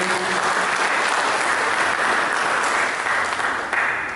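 A church congregation applauds during a sermon, a steady, loud wash of many hands clapping together that holds evenly for several seconds and eases slightly at the end, with no voices over it.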